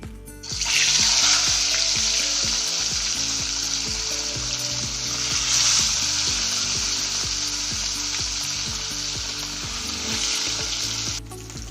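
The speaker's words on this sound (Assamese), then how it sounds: "তেলখিনি গৰম হৈ গ'ল আৰু ইয়াতে মাছ ভাজি ল'ম" Fish fries in hot oil in a wok, giving a loud, steady, bright sizzle that lasts throughout, with scattered crackles and pops from the oil and no talking.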